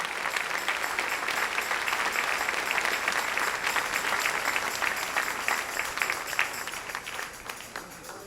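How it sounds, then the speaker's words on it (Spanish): Church congregation clapping at a service, a full, sustained round of applause filling the room throughout and tapering off near the end. "Dele ese aplauso al Rey si lo siente en su corazón."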